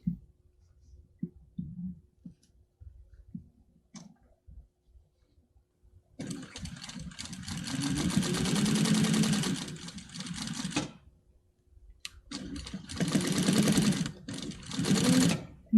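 Titan 650BL sewing machine stitching through 12 folded layers of denim, running in two loud, steady bursts of rapid mechanical chatter, each a few seconds long, with quiet handling clicks before them.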